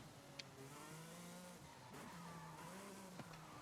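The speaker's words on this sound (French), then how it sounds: "Elle dérape facilement, mais si on va pas si vite que ça, on peut bien tenir le contrôle." In the Forza Horizon 5 racing game a car slides with its tyres skidding, a drawn-out squeal laid over a steady engine drone, quiet and without speech.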